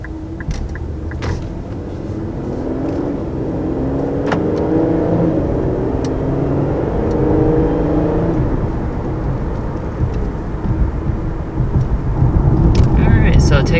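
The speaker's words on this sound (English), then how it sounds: "taking off in the Q50 Red Sport, you're definitely going to be able to tell right off the bat this is a quick car." A 2019 Infiniti Q50 Red Sport 400 pulling away from a start, its engine note rising steadily and building in strength over several seconds, heard from inside the cabin with someone talking over it.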